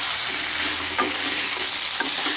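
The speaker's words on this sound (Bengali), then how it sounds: "আলু আর পটলের সঙ্গে আমি ভালো করে মিক্স করে নিলাম।" Potato and pointed gourd stir-fry with spices in a Bengali-style dish, with a loud, dense sizzle running throughout and a few soft stirring scrapes at roughly regular intervals.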